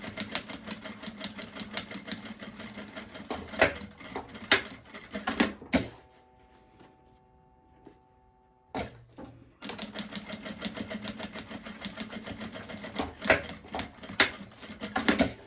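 A sewing machine stitches a maternity bag in a dense, rapid run of mechanical ticking. It stops for a few seconds, then resumes at the same steady pace.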